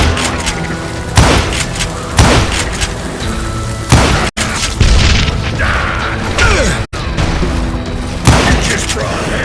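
In-game bomb explosion from Call of Juarez Gunslinger, a series of heavy booms and crashing thuds repeating over a dense, loud soundtrack, with game voices speaking over the action.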